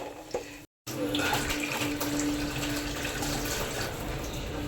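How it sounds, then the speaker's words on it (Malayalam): Water pours steadily into a pot of biryani rice, a continuous splashing rush close by after a brief pause, with faint murmurs in the background. "നമുക്കിനി ഇതിൽ വെള്ളം ഒഴിക്കണേ"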